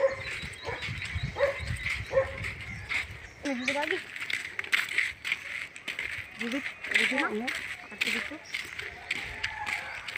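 An injured dog with a hurt, partly severed leg in a rural village barangay, barking and whimpering in short bursts amid outdoor ambience, with people talking nearby.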